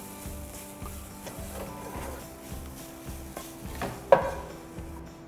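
Onions dry-roasting in a pan without oil, a soft continuous sizzle with scraping and stirring, a few faint utensil knocks and one sharper clink near the end.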